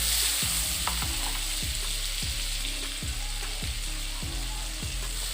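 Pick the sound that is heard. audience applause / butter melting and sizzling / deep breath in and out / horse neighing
butter melting and sizzling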